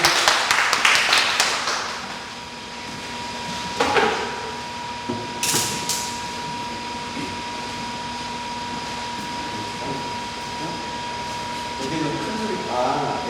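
Applause from a congregation at a Korean church youth worship service, a dense burst of clapping at the start that fades within two seconds, followed by quieter room noise and a few scattered knocks.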